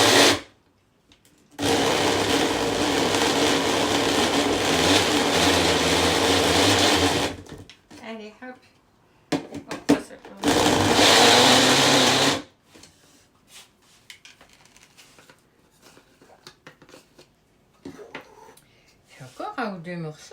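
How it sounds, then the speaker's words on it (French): A blender whirs through cheesecake batter in two loud bursts, one long and one shorter, separated and followed by quieter kitchen handling sounds. "On essaye de vraiment bien mixer tout."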